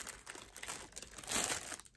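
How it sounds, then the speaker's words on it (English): Plastic packaging around small baby-doll toy accessories crinkling close up, a continuous crackly rustle that swells louder toward the end, heard alone with no talking. "sorry about the crinkling"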